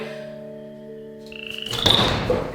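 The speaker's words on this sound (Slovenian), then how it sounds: "Te žabe zganijo tak hrup, da to ne moreš verjeti." Frogs croak in a dense, rasping burst that swells after a steady tonal hum, moderately loud and close, with several overlapping calls.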